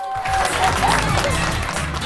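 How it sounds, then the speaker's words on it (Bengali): Applause from a live audience at a Bengali children's comedy show, a dense wash of clapping that rises quickly and holds steady and loud for about two seconds, with crowd noise mixed in. "ওকে ওর জন্য একটা হাততালি"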